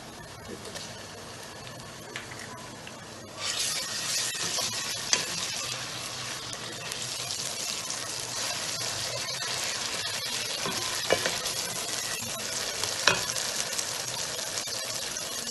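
Garlic ginger paste hits a hot pan and breaks into a loud, steady sizzle, with occasional stirring scrapes; quieter background hiss before it starts.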